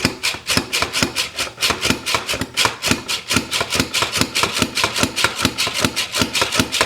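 Cucumbers pushed across a slicer set to its thinnest setting, making rapid, evenly spaced rasping strokes, several per second, steady and close for the whole stretch.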